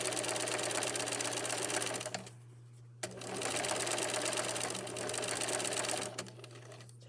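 Sewing machine stitching along fabric edges: a fast, steady mechanical whir with a constant hum, running in two long bursts separated by a brief pause, close and moderately quiet.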